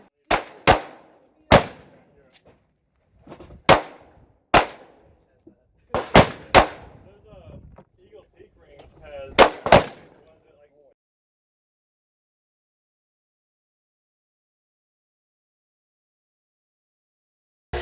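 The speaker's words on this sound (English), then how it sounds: "I'm shooting with my Kimber Micro 9 Bel Air." Pistol shots from a Kimber Micro 9 Bel Air 9mm fired at a shooting range, a dozen or so sharp, loud cracks in irregular pairs and clusters with short gaps, trailing off into silence after about ten seconds.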